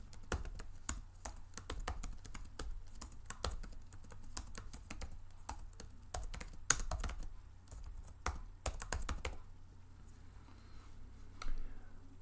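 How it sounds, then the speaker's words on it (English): Steady, quiet clicking of keys on a computer keyboard, rapid and uneven, with brief pauses between bursts of typing. "Here we go. More typing."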